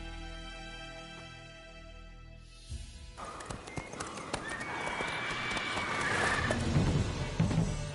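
A horse in a video game whinnies loudly near the start, then hooves pound in a fast galloping clip-clop that grows louder over several seconds.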